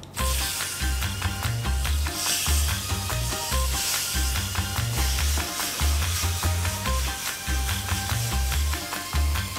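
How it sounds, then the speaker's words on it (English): Prawns fry in hot, flavored masala oil, a steady loud sizzle with a rhythmic pulsing undertone that carries on without pause and without any voice. "we're gonna fry our prawns."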